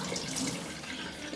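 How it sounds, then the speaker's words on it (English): Water drains in a continuous rushing gush out of a Kuppet washing machine's spin dryer, steady and close throughout the brief moment. "And there's water still coming out."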